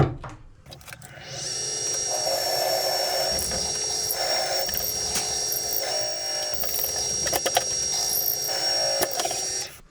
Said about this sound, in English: let me get set up here and we'll start drilling some holes